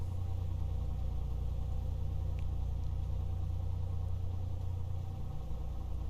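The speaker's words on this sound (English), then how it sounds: "In the meantime, engine is running." A simulated aircraft engine in the Prepar3D flight simulator runs at a steady idle, a continuous low rumbling drone that holds level throughout with no talk over it.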